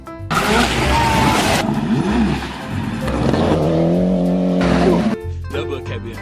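Toy rally car pushed along a floor, giving a rolling, scraping rumble with squeal-like tones, heard under a child's and an adult's chatter, close and fairly loud throughout.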